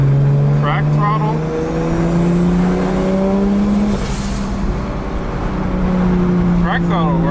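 A Toyota 2JZ engine swapped into a Nissan S13 revs steadily and loudly at crack throttle, its tone sweeping up and down in sustained, close pulls that fill the whole clip with no break.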